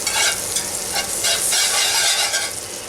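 Pork chops for a Pennsylvania Dutch recipe sizzle loudly in a frying pan over medium heat after a high-heat sear, a dense, continuous crackle and hiss close up with slight stirring movement and no talking.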